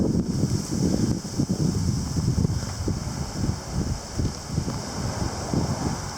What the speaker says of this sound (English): Winds are starting to kick up a little bit more.